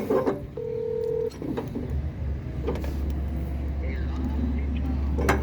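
A steady tone and then a low continuous rumble come from a pocket-dialed phone call, with faint muffled movement and indistinct voices under the hum.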